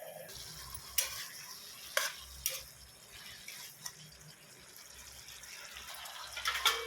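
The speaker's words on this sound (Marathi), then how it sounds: "थोडंसं उघडवून परत एकदा हलवून घेऊयात" A spoon stirs cauliflower curry in a pan over low heat, giving a soft background sizzle punctuated by several sharp scraping knocks, close by and without speech.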